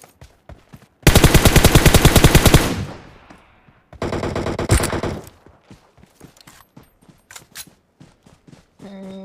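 MK14 rifle fire in the game PUBG Mobile: a loud rapid burst of close shots, then a second slightly softer rapid burst after a short pause, followed by scattered lighter clicks and footsteps.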